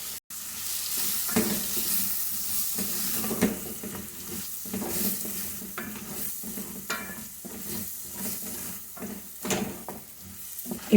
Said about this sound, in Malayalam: 1 സ്പൂൺ ബട്ടർ ഇതിലേക്ക് ചേർത്ത് കൊടുക്കാം.